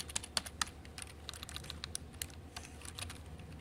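Python code is tapped out on a computer keyboard in a steady run of quiet, close keystrokes with irregular rhythm and occasional sharper key hits, no talking.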